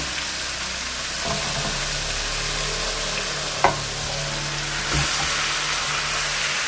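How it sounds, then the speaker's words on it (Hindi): Chicken hits a hot pan with garlic-ginger paste and fries with a steady, loud, broadband sizzle, broken by a couple of sharp knocks as the pieces go in and settle. "इसमें हम चिकन ऐड कर देंगे"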